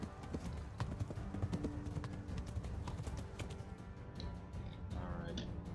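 A horse gallops in Kingdom Come, with rapid steady hoofbeats close by, and a brief whinny near the end.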